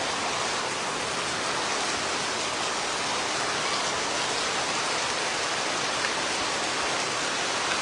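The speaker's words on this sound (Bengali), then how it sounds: "প্রচুর বৃষ্টি হচ্ছে।" Heavy rain pours steadily during an outdoor film shoot, a dense, even roar of water hitting surfaces with no breaks or voices across the whole stretch.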